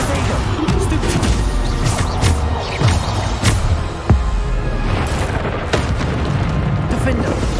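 Bombarda spell blasts go off in the video game Hogwarts Legacy, several loud, close booms and crashes spaced through a busy combat din, with a voice speaking over them.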